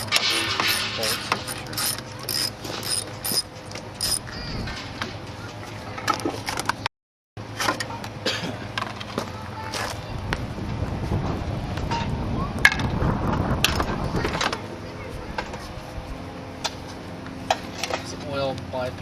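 Bolts being fitted on the air intake of a Mercedes 300D diesel, with close metallic clinks, ratcheting and tool clicks scattered throughout and a brief silent gap midway. A person talks now and then.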